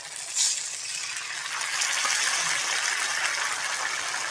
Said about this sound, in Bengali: বাটিটা ধুয়ে জলটা দিয়ে দেবো